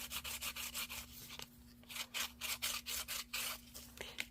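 Sandpaper rasps back and forth close by on a coffee sleeve in quick rhythmic strokes, about a dozen of them with a short pause in between, quiet and alone.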